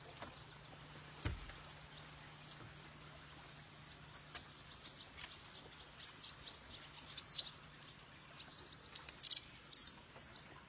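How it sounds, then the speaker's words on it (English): A small bird chirps outdoors in a few faint, brief high-pitched bursts, sparse and scattered over a quiet background hum. "There's a cute little bird sitting there."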